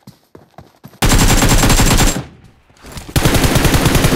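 Rapid automatic gunfire in PUBG Mobile on the Livik map, loud and close, a sparse burst of shots followed by sustained continuous firing, a brief lull, then another dense stretch of shooting.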